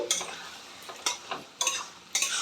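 Egg roll filling being stirred in a pan after tomato sauce and green chili sauce are added. A utensil scrapes and taps in four or five short, distinct strokes over a faint sizzle, with no voices.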